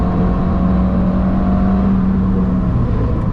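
A race car runs on the Nürburgring as a steady, loud engine drone with no clear rise or fall, heard close and continuous, with no talking.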